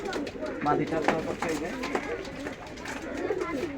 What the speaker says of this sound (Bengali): কবুতর দুইটা মার্শাল্লাহ খুবই সুন্দর কবুতর